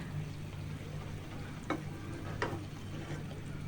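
Four eggs fry in hot oil in a pan with a quiet, steady sizzle and a couple of brief sharp clicks from a utensil, heard close and alone.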